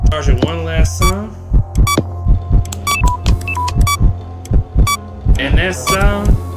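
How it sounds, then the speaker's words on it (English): A sound effect like an old Samsung Galaxy phone tone plays in the robot horror game Nights with Robot Boy & Friends. Loud, regular thumping pulses run beneath bright chiming tones, heard alone and close. "that sound is from the old Samsung Galaxy phones"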